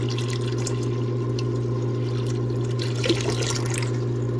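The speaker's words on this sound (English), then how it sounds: "Let's actually pour more water in there." Water poured into the reservoir of a Taotronic pellet ice maker, a soft continuous trickle and splash over the steady hum of the running machine, close by.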